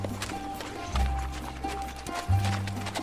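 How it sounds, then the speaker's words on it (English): A horse rides away in a film based on a video game, with hoofbeats and thuds over a steady rumbling soundtrack, including two heavier low impacts. "The next day, she gets on her horse,"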